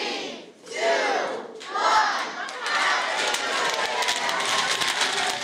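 At midnight on New Year's Eve in Green Bay, a crowd bursts into loud cheering and shouting, with rising whoops and a sustained roar of many voices that hold for several seconds.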